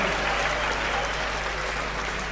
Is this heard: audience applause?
yes